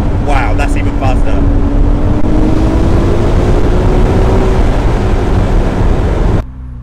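Ferrari 296 GTS accelerating hard in race mode, a loud, dense engine roar with a faint rising tone, heard from inside the cabin with talk in the first second before cutting off near the end.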